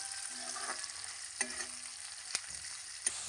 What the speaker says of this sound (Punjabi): ਆਲੂਆਂ ਨੂੰ ਆਪਾਂ 2 ਮਿੰਟ ਲਈ ਪਕਾ ਲੈਂਦੇ ਆ ਚੰਗੀ ਤਰ੍ਹਾਂ ਮਿਕਸ ਕਰ ਲੈਣੇ ਆ